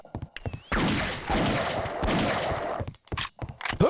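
Rapid bursts of gunfire from the shooter game Half-Life: Opposing Force, loud and close, sustained automatic fire with brief gaps and scattered single shots, heard without talk.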